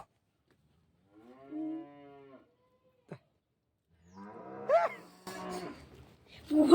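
Young goats bleat at a home, a few separate wavering cries with short pauses between, moderately close, then louder overlapping calls toward the end.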